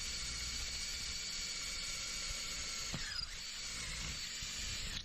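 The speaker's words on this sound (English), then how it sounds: "In this next step, we will be using the special deburring bit to make sure the cam seats smoothly and without snags." A power drill spins a deburring bit against the cam of an internal door latch, a steady whirring grind held throughout with a brief catch near the middle, close and fairly quiet, no talk.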